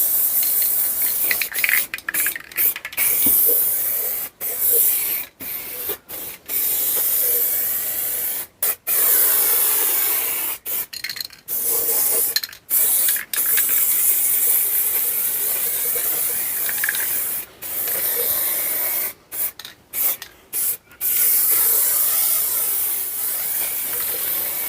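Spray paint hisses onto car seat subframes for a Skoda 120 16V, coming in long close bursts broken by short silent gaps between passes.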